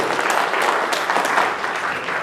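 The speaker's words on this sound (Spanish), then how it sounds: "¿Por qué no le brindamos un fuerte aplauso a nuestro Señor esta mañana" A church congregation breaks into loud, continuous applause during a Sunday morning service, a dense wash of many hands clapping close by.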